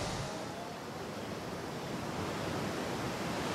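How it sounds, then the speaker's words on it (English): Roaring waterfall in Hawaii, a dense, steady rush of falling water filling the air, fairly faint and broad like surf, with no voices. "That's what I call a waterfall. Listen to that roar."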